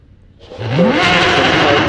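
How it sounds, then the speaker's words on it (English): A hillclimb race car's engine fires up at Prescott, quiet at first and then bursting into a loud, steady roar that holds close by. "I can hear a car firing up."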